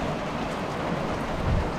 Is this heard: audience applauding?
no